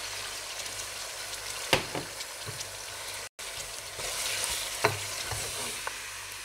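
Spices, garlic and ginger fry in a hot pan. A steady sizzle sounds up close, broken by a few sharp clinks of stirring and a brief dropout near the middle.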